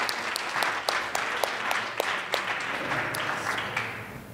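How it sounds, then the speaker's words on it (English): A small open-mic crowd gives performer Preston Baker another round of applause: moderate, fairly steady clapping with a few sharper individual claps standing out, heard from a short distance. "let's give another round of applause for Preston"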